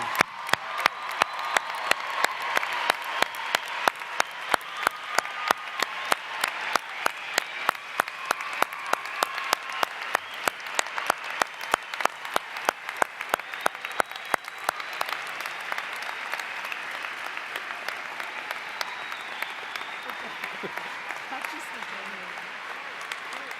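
A commencement crowd applauds the graduating class of 2013, sustained clapping with some distinct sharp claps near the mic, steady and full for a long stretch before thinning and softening toward the end.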